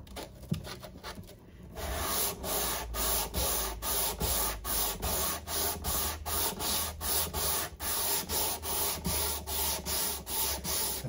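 Fine-grit sandpaper at 240 to 400 grit rubs over the frets of a Washburn acoustic guitar during a refret, making a quiet, close series of rhythmic scraping strokes about twice a second after a brief pause.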